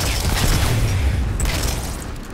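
Big sunshot explosions from a weapon in the video game Destiny 2 boom in a dense, continuous roar with low rumbling bursts, loud and close.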